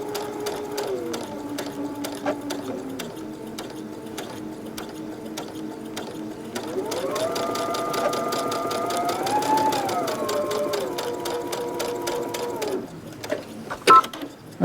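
A sewing machine stitches across a seam on a Dutchman's Puzzle quilt block, a steady mechanical whir whose pitch climbs and dips as the speed changes, running alone without talk until a few clicks at the end.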